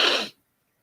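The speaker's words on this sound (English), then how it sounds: "I'm about to sneeze." A single short, breathy sneeze, fairly close and moderately loud, ending abruptly in silence.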